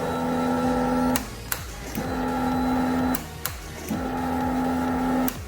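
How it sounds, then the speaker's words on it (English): Fuel pump on a Suzuki GSX-R motorcycle, newly replaced, whirs in a steady electric hum that cycles three times with the key on, each run about a second long and ending in a click, close by. "just make sure you turn the key and let the fuel pump cycle a couple times"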